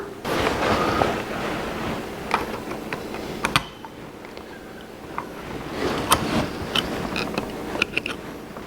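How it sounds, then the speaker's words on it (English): A snap ring and gear being pried off the input shaft of a Dana 300 transfer case from a 1982 Jeep CJ7: scattered metallic clicks, ticks and scraping clanks of tools on steel, close and irregular. "remove the snap ring retaining the rear output shaft gear on the input shaft and remove the gear"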